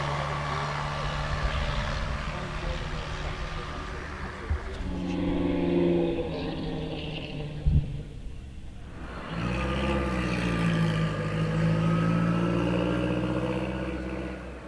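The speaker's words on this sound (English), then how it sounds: "Ian Warner in the 3 litre Bentley is underway" A 3 litre vintage Bentley pulls away at a hill climb, its engine rumbling steadily, then revving up again after a brief lull and a sharp knock, a loud, throaty roar fading into the distance.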